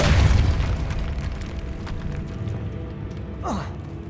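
A Depulso spell cast in Hogwarts Legacy bursts as a loud, deep boom at the start, fades into a low rumbling bed, then a brief rising whoosh flares near the end.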